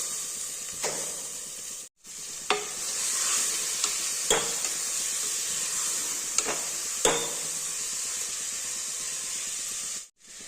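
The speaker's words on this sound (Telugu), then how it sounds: "కట్ చేసి పెట్టుకున్న క్యాబేజీని వేసుకుందాం. నానబెట్టి పెట్టుకున్న పచ్చని పప్పును వేసుకుందాం." Chopped cabbage and soaked chana dal sizzle in a pressure-cooker pan while a spatula scrapes through them in several distinct strokes over a steady hiss.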